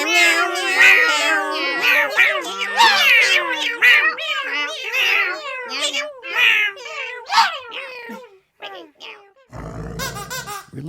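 A human voice imitates a cat, repeating rapid, exaggerated meows in a long unbroken run, loud and close, with a brief burst of other noise near the end.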